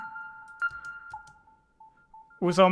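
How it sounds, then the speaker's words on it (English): A pure sine-wave synth tone with an automated filter holds and steps between notes in a sparse melodic techno sequence, ending with a brief burst of brighter, buzzier sound. "It's kind of a basic sine wave that I automate the filter"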